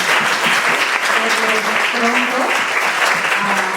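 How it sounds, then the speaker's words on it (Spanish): Audience applause after a talk on academic ethics and artificial intelligence, steady loud clapping throughout with a voice speaking over it. "les agradecemos por un aplauso"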